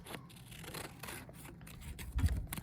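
Scissors cutting a circle out of a paper sewing pattern for a penguin hat pom-pom, with soft steady snipping and rustling close by, fairly quiet, and one slightly louder crunch near the end.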